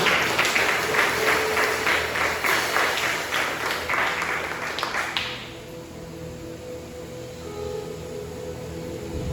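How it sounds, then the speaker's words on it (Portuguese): Church congregation applauding during a Portuguese-language evangelical worship service, a dense, steady wash of many hands clapping for about five seconds before fading into quiet room tone with low hum. "as palmas louvam ao Senhor"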